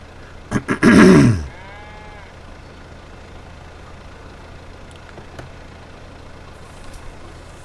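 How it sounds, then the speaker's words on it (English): On a homestead during the barley harvest, a farm tractor's engine cranks with a few sharp sputters and a brief roar, then settles into a low, steady idle rumble. "I don't know why you have to jump out of the tractor and back in for it to start"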